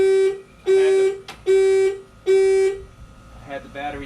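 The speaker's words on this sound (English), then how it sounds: "Each time you have to turn off the alarm." A car alarm on a beach buggy under construction sounds four loud, evenly spaced honking blasts about a second apart, close by, followed by brief talk.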